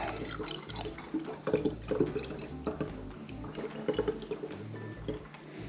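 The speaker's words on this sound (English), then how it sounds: "I have an old malt vinegar bottle here, and that's what I'm going to use to bottle this." Homemade mushroom ketchup is poured into an old malt vinegar bottle, giving a faint, uneven trickle and gurgle with small splashes and clinks up close.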